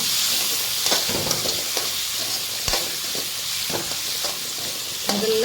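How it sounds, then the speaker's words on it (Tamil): Chopped tomatoes sautéing in a pan for a South Indian drumstick sambar, a steady close sizzle with scattered spoon scrapes and stirring clicks, no talking. "இப்போ இதை நல்லா வதங்க விடணும்."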